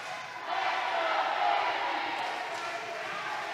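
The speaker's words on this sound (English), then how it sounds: "The crowd in this building, I mean, you can hear it here. It is deafening." Crowd roaring at an independent wrestling championship match, a loud sustained wall of cheering and shouting that swells after the first half second and holds steady.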